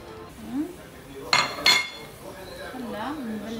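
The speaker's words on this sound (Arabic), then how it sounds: "بستمتع وانا عم بفرم البقدونس" A knife chops fresh parsley on a board while a green salad is prepared, giving two sharp, close chops in quick succession as a person talks before and after.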